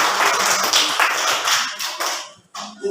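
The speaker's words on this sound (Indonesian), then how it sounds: "Kita beri tepuk tangan kepada kelompok" A short burst of applause from a small classroom group, quick scattered claps fading out near the end with a brief trailing patter.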